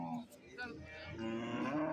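A buffalo moos repeatedly at a busy livestock market. The long, loud bellows are close by, with crowd noise steady underneath.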